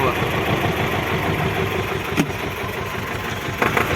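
A tractor engine runs steadily with its power take-off shaft turning. It holds a close, even mid-pitched drone for the whole stretch while someone talks over it.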